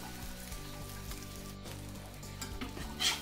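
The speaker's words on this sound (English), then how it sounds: "you flip it over and brown the other side" A smoked salmon quesadilla with melted cheese sizzles steadily on a hot grill as it browns, a dense continuous crackle close by with small pops and no talking.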